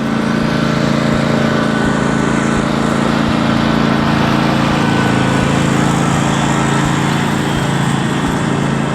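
Steady tractor engine drone through spring lawn work of mowing, seeding and fertilizing, loud and close, running continuously without a break and with no talking.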